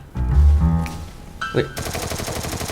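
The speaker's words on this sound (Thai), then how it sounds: "เหมือนยิงอยู่บนครับ" Gunfire in the mobile shooter game Free Fire: a loud shot and short bursts, then a rapid automatic volley at the end, close and punchy, with a player's voice briefly heard.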